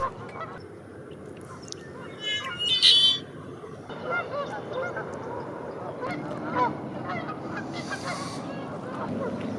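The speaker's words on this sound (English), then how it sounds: "The birds are sure squawking and singing this morning." Birds call and squawk outdoors along Santa Rosa Creek in Sonoma County in the morning, with honking goose-like cries rising around the third second over a steady background of chirps and distant noise.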